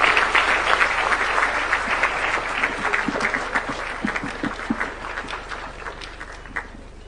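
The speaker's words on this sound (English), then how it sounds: "Please, a round of applause for His Excellency the President." An audience applauds the President at a national prayer day gathering: dense, sustained clapping from a large crowd that stays fairly loud throughout and thins slightly toward the end.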